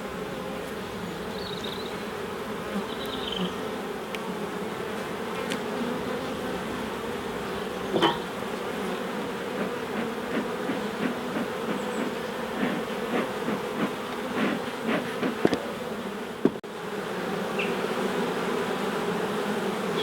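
Honeybees buzzing around freshly built comb in a hive, a dense continuous drone of many wings close by, with scattered clicks and handling knocks from the comb being moved, no voices.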